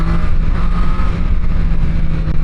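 A Triumph Street Triple 765 RS three-cylinder motorcycle engine drones steadily and loudly while riding, a continuous close hum with a slight rise and fall and no pauses.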